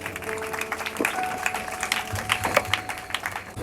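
Applause from a gathered crowd at a family memorial, steady mid-level clapping with brief louder swells, continuing for several seconds without speech.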